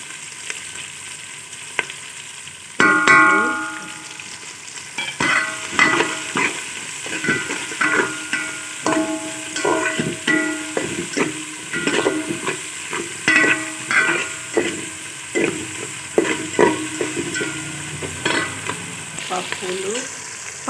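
Onions frying in a pan with ingredients being stirred, a steady close sizzle broken by repeated scraping and stirring strokes throughout, with no one talking.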